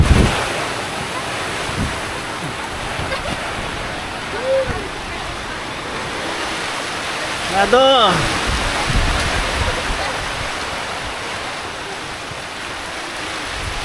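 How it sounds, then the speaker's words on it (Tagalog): Typhoon wind and heavy rain at a farm in the Philippines, a loud continuous roaring rush that fills the whole stretch, with voices calling out briefly over it. "Lakas ang ulan. Binabagyo na tayo rito."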